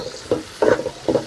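A paste of garlic, ginger, coriander and cumin sizzles softly in hot oil while a spoon stirs it, making three short scraping swishes over a low frying hiss.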